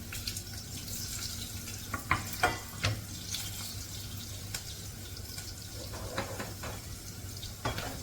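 A small potato goes into a pan of frying chillies, producing a steady close sizzle and crackle with a few sharper pops and scraping stirs.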